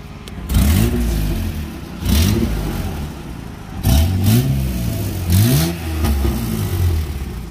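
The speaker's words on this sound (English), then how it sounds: "Give it a rev." A car engine in a shop revved repeatedly, four or five rising vroom bursts that fall back to idle between them, loud and close, with no voices over it.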